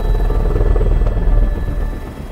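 A helicopter flies close and loud, its rotor chopping in a rapid, even pulse over a deep engine rumble, with no talking, while it carries crews to steep hillside ground to collect rock samples.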